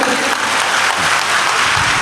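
A crowd at a film promotion event applauds, a loud, dense burst of steady clapping close by that continues throughout the short moment.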